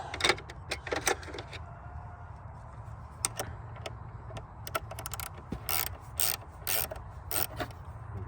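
A ratchet wrench works loose 10 mm bolts on the battery of an Audi A3 that has not run in ten years, giving close irregular clicking bursts over a low background hum, with no talk.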